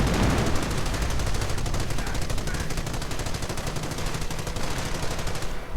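Continuous, dense gunfire and machine-gun bursts during a base assault in a WWII real-time strategy game, Propaganda, a steady near-constant barrage filling the whole stretch with rattling shots.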